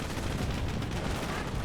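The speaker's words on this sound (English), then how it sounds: "We do have now the MG42 set up over here, getting some damage." Dense, continuous rattling bursts of an MG42 machine gun firing in the Company of Heroes video game, loud and unbroken against rumbling battle noise.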